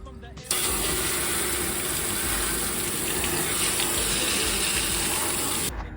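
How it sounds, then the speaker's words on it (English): A water hose sprays hard beneath an old Toyota Corolla, washing dirt out from under the car. It starts abruptly as a loud, steady rushing hiss, continues unbroken for about five seconds, then cuts off. "I've been washing it now for 10 minutes straight and it's still got dirty water coming out."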